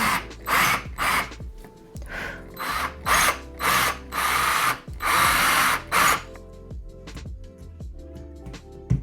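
A cordless drill bores a hole into a wall in a series of short, loud whirring bursts with brief pauses between them, ending with quieter clicks and handling noises.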